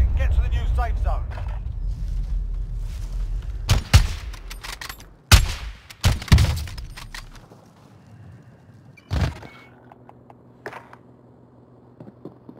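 Gunfire in a battle-royale shooter match as the gas zone closes: a few sharp, loud shots stand out over game ambience and voices, with softer distant reports trailing off.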